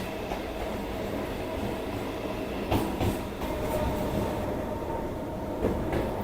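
A train on Kolkata's circular railway rumbles steadily along the rails beside the Ganges, with a few louder clattering bursts from the wheels; no voices.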